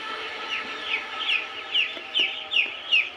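Nine-day-old poultry chicks cluck close by while being weighed, in a rhythmic series of short, rising calls about every half second, with a low background hum.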